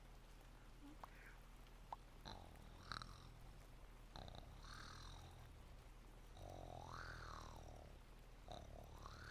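A cat purring close up, a steady low rumble with several higher squeaky, whiny cries breaking in over it.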